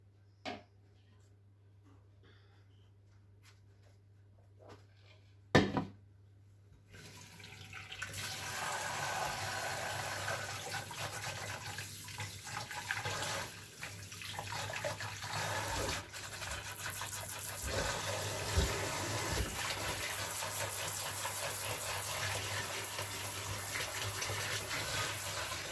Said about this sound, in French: Je vais me laver les doigts et je reviens.